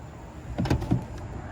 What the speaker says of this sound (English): Gonna open the door here.